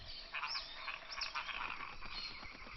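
A reticulated glass frog croaks in a repeated, rhythmic series of chirping calls, fairly close and steady, with no voices over it.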